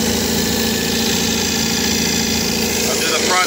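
An MGB engine with SU HIF44 carburettors runs lean at idle, a constant droning hum, close and even, with a slight change in tone right at the end.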